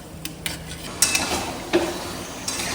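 Mutton leg pieces sautéing in a pan while a spatula stirs, giving sharp metallic clinks and scrapes over a faint low sizzle.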